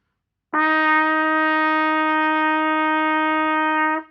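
A single sustained trumpet note, F played with the first valve, clear and steady, held for about three and a half seconds before stopping cleanly.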